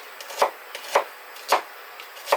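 A knife slices through an onion on a cutting board, four crisp separate cuts at a steady pace with quiet pauses between them, close and fairly loud, with no one speaking.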